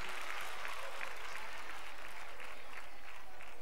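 Audience at a charity magic gala applauds a young volunteer, steady dense clapping filling the room without pause, moderately loud and fairly close.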